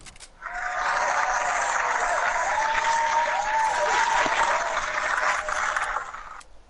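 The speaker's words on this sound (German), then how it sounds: "Warte, Lina, mach noch mal den Klatsch-Emote." Synthetic clapping emote from Fortnite rings out alone, a dense steady patter of applause that lasts several seconds before cutting off abruptly.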